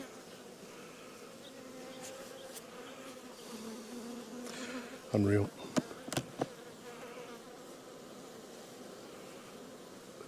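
Bees hum in a low, steady drone close by at a hive during a spring inspection, with a few louder bumps and a brief spoken exclamation partway through.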